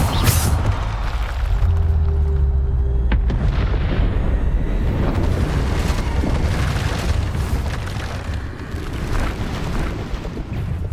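Bombarda explosion spell blasts in a Hogwarts Legacy battle: loud, continuous booming detonations one after another with rumbling low end and crackling bursts, dense and close throughout.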